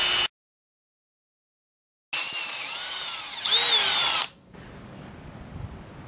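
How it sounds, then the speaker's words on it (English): A brief burst of power drilling through metal, a 5/16-inch clearance hole on a railroad motorcar body, starts after a silent pause, rises in pitch as the bit bites, stops abruptly, and gives way to quiet room noise. "We're going to drill the 5/16 clearance hole through"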